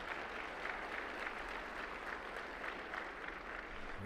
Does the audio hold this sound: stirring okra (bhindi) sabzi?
no